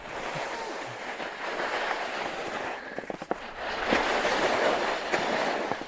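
Skis carving to a stop throw a spray of snow on a summer ski run, a steady broad hissing scrape with a brief louder rush partway through, close by and with no talking.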